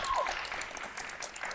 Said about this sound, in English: They're clapping for you, and I love it.